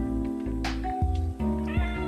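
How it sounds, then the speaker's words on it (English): A pet cat meowing indoors, close and fairly loud, several drawn-out tonal meows over a steady background hum. "It's been a long time since you'd seen my cat."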